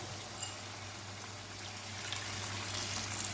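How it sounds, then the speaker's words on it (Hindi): Water is poured over sweet vermicelli in a cooking pot, a steady soft rushing wash with a low hum beneath it, continuous and fairly quiet throughout. "पानी जैसे हम चावलों में डालते हैं ना, बिल्कुल वैसे ही डालेंगे कि सेमियों के ऊपर पानी हो और ज़्यादा ना हो"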